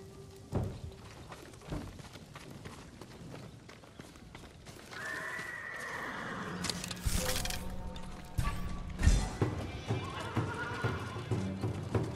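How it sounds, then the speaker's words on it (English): Horses neigh and whinny in a samurai stable setting in the video game Ghost of Tsushima, with hoof clip-clops and thumps over an ambient game backdrop, the calls rising mid-clip at moderate loudness. "Get to the horses. They're samurai horses."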